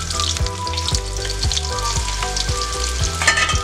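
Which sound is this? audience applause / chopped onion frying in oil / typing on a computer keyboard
chopped onion frying in oil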